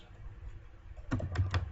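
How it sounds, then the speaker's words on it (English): Rapid keystrokes on a computer keyboard while entering questions into a Google Form, a few close, crisp taps clustered together over a steady low background hum. "Type the questions. I'm typing one questions."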